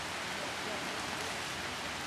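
Heavy rain hammers down outdoors, a dense, even hiss of drops that stays constant and fairly loud throughout, with nothing else standing out.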